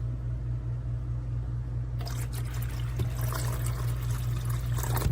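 Filtered water pours steadily into the reservoir of a portable countertop ice maker, a continuous close trickle and splash heard over the machine's constant low hum.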